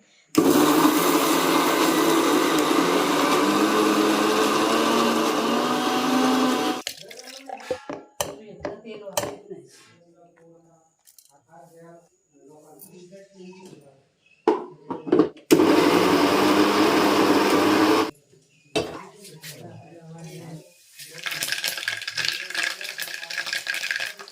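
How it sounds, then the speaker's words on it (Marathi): A kitchen mixer grinder whirs loudly while grinding a wood-fire-roasted onion masala paste in a village home, running in three bursts separated by quiet stretches with handling clatter and occasional talk. "वाटप लावून घेते मिक्सरला लाईट आहे तोपर्यंत"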